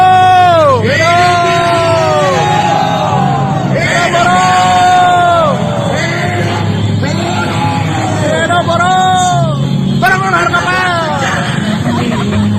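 A large crowd of workers at a labor protest yells and chants loudly through the whole clip, voices overlapping with rising, whooping shouts, close and unbroken.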